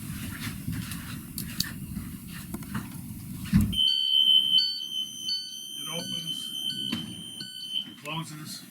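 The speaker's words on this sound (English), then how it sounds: "Closes, the buzzer comes on." A bus emergency door buzzer sounds, steady and high-pitched, continuously for several seconds after a thud, with faint voices and rustling beneath it.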